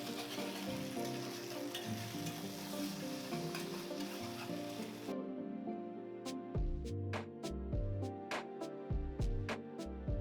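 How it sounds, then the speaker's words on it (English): Beef broth stirred into a hot pan for Salisbury steak, a dense steady sizzle that turns to bubbling and sharp spattering pops once the liquid goes in, close and loud, with no talking. "Slowly stir in some beef broth."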